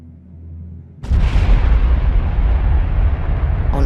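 Rocket explosions from spacecraft: after a second of low rumble, a loud blast erupts and rolls on as a sustained, thundering roar that never fades.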